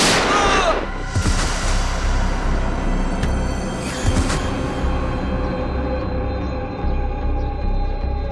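A gunshot: a sharp, loud bang at the start followed by a booming echo, with another fainter report later and voices mixed in.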